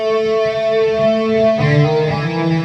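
An electric guitar through a Peavey Vypyr X2 amp on full distortion rings out sustained, saturated chords, shifting to a new chord midway, loud and close with no talking.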